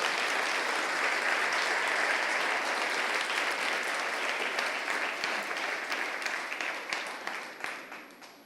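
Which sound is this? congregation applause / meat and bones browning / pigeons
congregation applause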